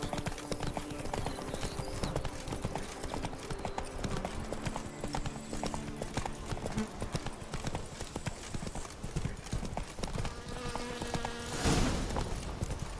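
Hooves of Roach the horse clip-clop steadily in The Witcher 3: Blood and Wine, a close, rhythmic trot over ground with ambient game music and a brief swell near the end.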